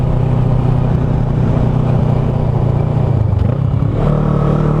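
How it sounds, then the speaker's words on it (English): A 2009 Kawasaki Ninja 650R, an inline two-cylinder fitted with a Yoshimura TRC exhaust, runs loud and close with a steady low engine drone and some rough crackle, the pitch shifting slightly near the end. "I fucking love that sound, the kind of cracking and pop"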